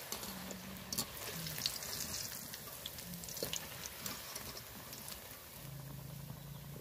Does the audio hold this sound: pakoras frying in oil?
yes